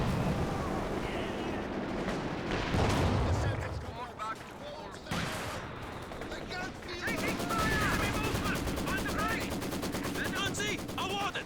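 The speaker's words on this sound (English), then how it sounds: "mortar pit getting some long-range barrages on these infantry support guns" Mortar barrages and gunfire in a Company of Heroes 2 2v2 match, with dense rattling shots and heavy booming impacts rolling on continuously while a commentator talks over them.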